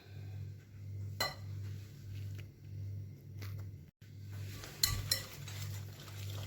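Butter and sugar being beaten hard together in a bowl for Eid biscuits, with a steady rhythmic churning and scraping broken by a few sharp clinks against the bowl, near and fairly quiet.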